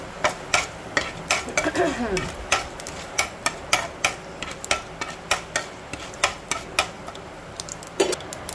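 Hot oil sizzles steadily as a spoon scrapes and taps a pan in a regular rhythm, close by, with a brief sharper crackle partway through.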